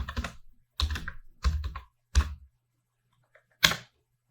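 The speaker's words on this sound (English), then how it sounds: "Here you have to type exit." Command typed on a computer keyboard while resetting a Linux password: five separate, close, fairly loud keystroke bursts with short silent gaps between them.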